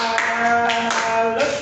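People play the clapping game tepuk salat, producing a few rhythmic hand claps over a steady hum, with voices present in the background.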